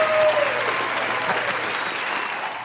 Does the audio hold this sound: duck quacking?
no